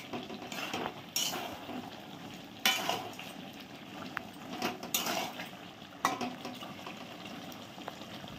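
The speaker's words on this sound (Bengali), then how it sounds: "অল্প নাড়াচাড়া করে দিলাম ভালো করে, আর একটু কষানো হচ্ছে।" Chicken curry being stirred and sautéed in a pot: soft frying sizzle under repeated scraping clinks of a spoon against metal, close and fairly quiet, in irregular bursts.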